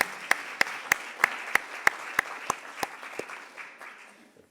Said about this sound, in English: Let's have a round of applause for these wonderful women.